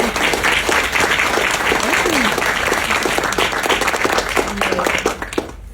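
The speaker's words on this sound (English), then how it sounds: "I would like everyone to give a big applause for the executive director here of like the Young Activist Summit" An audience at a youth activist summit gives dense, energetic applause for the executive director, a loud, unbroken wash of many hands clapping that holds steady before easing slightly at the end.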